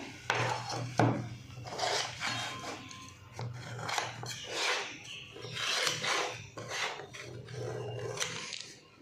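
A soft rava (semolina) cake being worked out of its tin, giving a steady series of scraping, rasping rubs with short pauses between strokes, close and fairly quiet.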